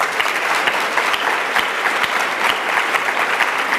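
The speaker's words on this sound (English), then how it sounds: "I would like you to applaud him also." An audience at a Bernard-Henri Lévy and Slavoj Žižek talk on violence and the Left applauds steadily, dense continuous clapping filling the room without a break.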